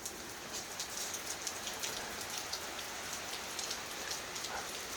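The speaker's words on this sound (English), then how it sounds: "It's absolutely bucketing it down" Heavy rain pours down around a garden gazebo, a dense, steady hiss of countless drops with no pauses and no voices.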